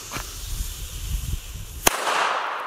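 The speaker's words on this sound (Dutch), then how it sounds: "Oh, die gaan voor rotjes echt in de hard." Mega Corsair firecrackers, Dutch-made, going off outdoors: a series of soft popping bursts followed by one sharp, loud crack, then a lingering hiss and rumble.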